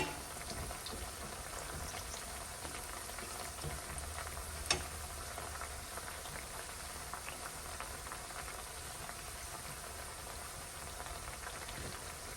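Sweet plantain slices fry in oil over moderate heat, giving a faint, steady bubbling sizzle throughout with one sharp click near the middle.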